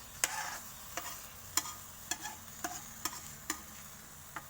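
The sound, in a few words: pumpkin frying in a pan for stir-fried pumpkin with egg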